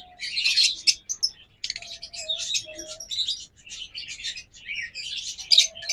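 Pet birds in a shop, likely pairs kept for sale, chirp and tweet continuously in busy overlapping bursts, with a few lower whistled calls mixed in, close and fairly lively with no talking.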